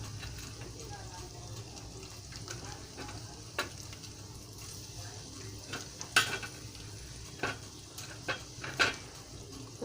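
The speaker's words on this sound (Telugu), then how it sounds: "ఇప్పుడు ఉల్లిపాయలు వేస్తున్నాను. కట్ చేసి పెట్టుకున్న ఉల్లిపాయలు వేస్తున్నాను." Chopped onions tossed into a hot pan for godhuma rava upma, a soft steady sizzle with occasional clinks of a spoon stirring against the pan.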